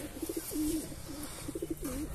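A Taiwan racing pigeon hen coos softly up close, several short throaty rolling coos in two brief bursts, with no other sounds over them.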